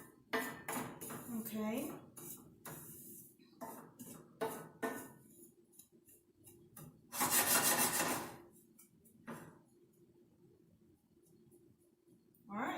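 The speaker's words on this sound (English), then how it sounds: "You just keep stirring it." Breadcrumb stuffing with cheese for stuffed artichokes, toasting in a pan, stirred with repeated close scraping and rubbing utensil strokes in uneven bursts, one longer harsh scrape midway, with someone speaking briefly between them.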